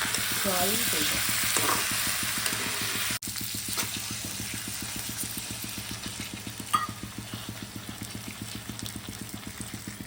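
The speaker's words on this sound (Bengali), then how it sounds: "এবার আমি জল দেব" Koi fish curry sizzles loudly in a pan, then water is poured in with a sharp hiss and the frying settles into a steady, rhythmic bubbling close by, with no talking.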